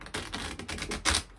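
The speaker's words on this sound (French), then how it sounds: "je vais bien mélanger les cartes" Oracle cards being shuffled by hand, a few soft papery riffles and taps close up in a quiet room, the last one slightly louder.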